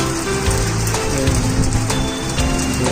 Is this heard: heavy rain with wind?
yes